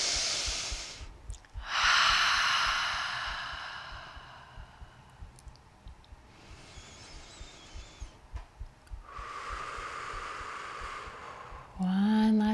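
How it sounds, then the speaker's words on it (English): During pregnancy yoga, a person takes slow, deep breaths, several long breathy inhales and exhales spaced a few seconds apart, close and clear, with a brief voice at the very end. "Breathe nice, deep, nourishing breaths."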